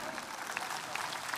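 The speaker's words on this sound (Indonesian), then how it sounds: "Tepuk tangan untuk santri." A large crowd at a National Santri Day gathering in Surabaya claps in a brief, dense burst of applause. The sound is steady and fairly loud with a few sharper individual claps standing out.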